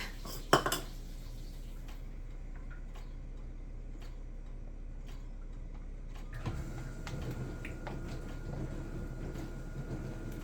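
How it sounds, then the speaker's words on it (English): A spoon stirs sour cream in a bowl for cookie dough, with a loud clink at the start, then soft intermittent taps and scrapes against the bowl over quiet room noise. "I always like to stir my sour cream up"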